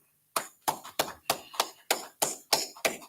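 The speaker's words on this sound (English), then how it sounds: "All right, clap it up." Eight sharp, evenly spaced claps ring out in a steady rhythm, loud and close with nothing else behind them.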